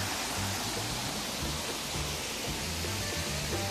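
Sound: waterfall, water falling

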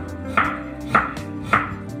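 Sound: knife chopping beetroot into julienne strips

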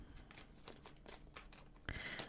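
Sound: shuffling tarot cards

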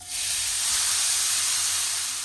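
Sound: grated carrots frying in oil in a pan

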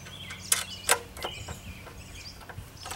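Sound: wing nut being fitted on a Ryobi tiller handle

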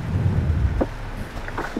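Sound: rain during a drive

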